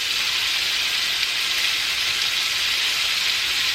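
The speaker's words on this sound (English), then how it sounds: "once our butter has melted, we're going to put in our smoked pork chop" A smoked pork chop sizzling in melted butter in a pan: a continuous, even, loud hiss close by, with no talking.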